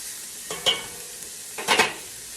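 Onions and garlic sizzling in a pan while a spoon scrapes the bottom, two short scraping strokes over a soft steady fry.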